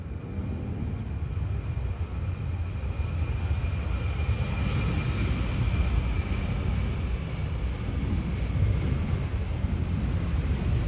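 A United Airlines jet takes off from George Bush Intercontinental Airport with a steady, heavy engine roar and low rumble, slowly swelling, buffeted by wind noise on the microphone.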